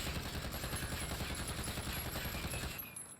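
Rapid automatic rifle fire with a Commando foregrip in Call of Duty Warzone, a loud continuous burst of closely spaced shots that runs about three seconds before stopping abruptly.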